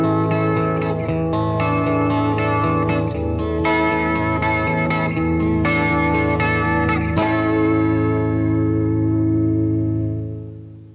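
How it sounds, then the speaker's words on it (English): A Vox stereo guitar sounds through two amplifiers, ringing sustained chords and tones colored by effects, loud and continuous before fading out at the end. "Each pickup has a special reverse switch, lets you switch the sounds between amplifiers and back again instantly."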